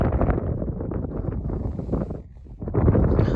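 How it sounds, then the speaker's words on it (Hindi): Strong desert wind in Leh, Ladakh roars and buffets the microphone in a steady, loud, low rush that dips briefly before surging again. No voices are heard. "कितनी तेज हवा वो आपको दिखा सकता हूँ"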